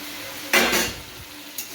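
A spoon stirs boiled potatoes and peas into a tomato curry in a frying pan, giving one short burst of scraping and shuffling over a faint background hum, with a smaller knock near the end.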